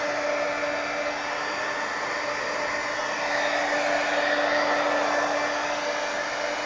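Close and loud, a heat tool roars with a steady airy hiss while drying a mixed media artwork, holding an even tone throughout with no talk over it.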